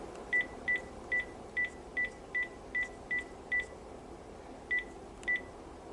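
A phone dials out to a Yamay smartwatch: ten short, evenly spaced keypad tones, eight in a quick run, a pause, then two more, clear over a faint room hiss.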